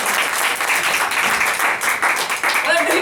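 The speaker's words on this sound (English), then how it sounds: "Give a big round of applause." Spectators at a magic show give a loud, dense round of applause close by that holds strong for the full three seconds, with voices mixed into the clapping.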